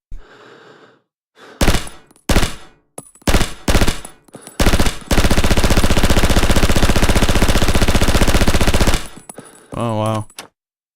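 Bursts of machine gun fire from a weapon fitted with a 71-round drum magazine in the video game Rising Storm 2: several short volleys, then a long sustained automatic burst. It is loud and close.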